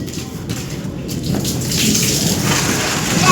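Heavy rain pours steadily onto surfaces outdoors while thunder rumbles underneath, a dense, loud hiss that swells slightly toward the end.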